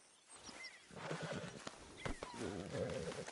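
A horse in the open-world Western game Red Dead Redemption 2 whinnies with a rising, wavering neigh near the end, preceded by snorts and shuffling hoof sounds over faint background ambience.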